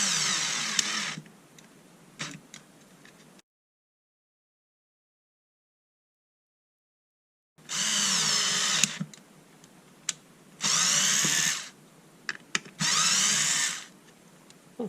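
A Ryobi Tek4 Li-Ion cordless screwdriver drives ordinary screws into a hole-riddled piece of wood in several short whirring bursts, separated by pauses and a stretch of silence.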